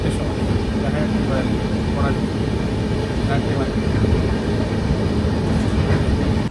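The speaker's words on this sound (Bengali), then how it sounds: "ট্রেনটা ধরে উঠলাম আর কি, বোলপুর থেকে ছাড়লো, ট্রেন 20 মিনিট লেট যাবে" Passenger train pulling out of Bolpur station, a steady loud rumble of rolling wagons with faint clatter throughout, heard from onboard with no clear talk.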